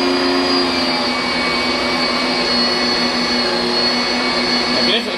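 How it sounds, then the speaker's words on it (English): An old, slow but sturdy meat grinder runs steadily while grinding wild hog meat for sausage, giving a continuous motor drone with a buzzing hum throughout, close and fairly loud. "There's an old grinder, y'all. She's slow but sturdy"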